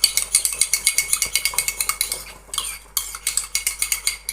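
A spoon clinks rhythmically against a bowl as a melted glycerin soap base is mixed, with quick, bright, close taps repeating steadily and a brief pause midway.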